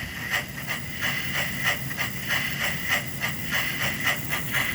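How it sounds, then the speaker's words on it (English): A live steam locomotive, Engine 2014, releasing a steady hiss of steam from its pop-off valve, with faint rhythmic chuffing pulses beneath it, close and continuous, with no talk. "you got the pop-off valve going, you got the steam going"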